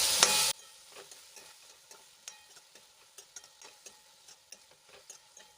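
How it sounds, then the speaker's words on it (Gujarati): Chili-garlic paste and chopped tomato sautéing in a pan for a Kathiyawadi brinjal and pea curry: a low, steady sizzle with repeated scraping strokes of a spoon, no talking. "એક ચમચી મરચાં અને લસણની પેસ્ટ એડ કરીશું અને એક કાપેલું ટમેટું એડ કરી દઈશું અને સરસ રીતે મિક્સ કરીને થોડી વાર માટે સાંતળી લઈશું"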